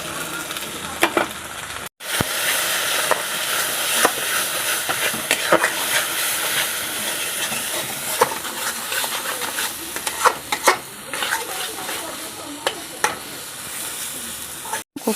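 Cumin and chili powder frying in oil in a pan: a loud, continuous close sizzle over about fifteen seconds, broken by frequent sharp stirring clicks and scrapes, with no talking.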